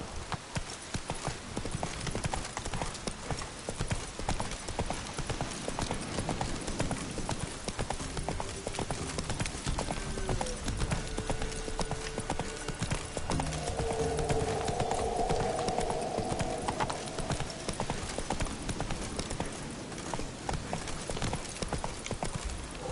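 Hooves of the horse Roach clip-clop in a steady walking rhythm throughout, close and continuous, in the Witcher video game, with a brief neigh-like sound partway through.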